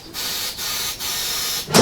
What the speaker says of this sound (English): So I take some silicone spray.